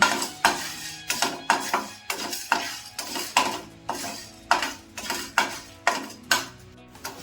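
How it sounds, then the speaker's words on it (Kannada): Curry leaves and spices dry-roasting in a pan for tangy mango rasam, a spoon or spatula scraping and clinking against the metal in a steady rhythm of about a dozen sharp strokes, close and clear with no voice. "ಇಲ್ಲಿ ಸ್ವಲ್ಪ ಫ್ರೈ ಆಗ್ತದಂಗೆ ಸ್ವಲ್ಪ ಕರಿಬೇವು ಹಾಕ್ಕೊತಾ ಇದ್ದೀನಿ"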